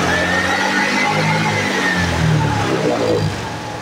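A Suzuki Hayate 125i motorcycle engine is revved hard and held high, a loud, steady, close buzzing drone that swells slightly and then eases back near the end, with no voices.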